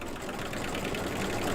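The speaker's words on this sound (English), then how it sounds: "So just a little bit of detail stitching is what we're doing." Embroidery machine doing detail stitching on a mug rug, a fast, even, whirring mechanical chatter at close range, running steadily and quietly with no voices.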